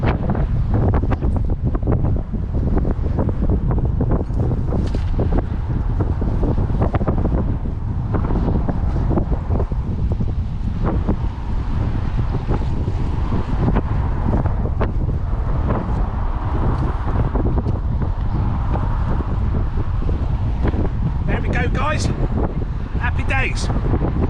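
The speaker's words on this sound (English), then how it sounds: "Even though the wind's really bad, I lifted it up." Strong wind buffeting the microphone during sea bass fishing from the shore, a constant loud rumbling roar with gusts, and someone talking intermittently over it.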